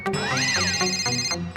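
A telephone ringtone plays loud and close, a bright electronic melody with rising and falling tones over a steady pulsing pattern, alone without talk.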